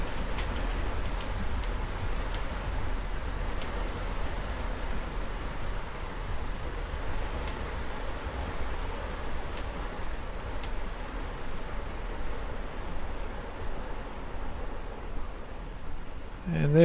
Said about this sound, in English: you hear the rain quieten down